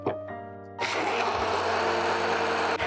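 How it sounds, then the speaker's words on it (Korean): A kitchen blender switches on after a brief low hum and grinds ingredients with a loud, steady whirring roar for a few seconds, close up, with no talk. "믹서기로 갈아주시면 돼요."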